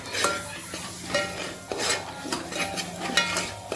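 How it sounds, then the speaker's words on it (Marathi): Ghati masala roasts in oil on a low flame in a pan for Satara-style chicken curry, with a soft sizzle under repeated scraping and rubbing strokes of a spoon against the pan. "आता बारीक गॅसवर तो छानपैकी भाजून घ्यायचा तेल सुटेपर्यंत"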